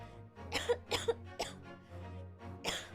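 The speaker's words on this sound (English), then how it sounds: "Had a cough come up." Several sharp coughs in a short burst, close and fairly loud, with a hum in the background.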